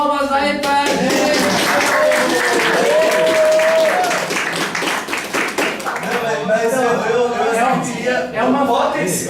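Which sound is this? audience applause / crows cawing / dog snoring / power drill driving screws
audience applause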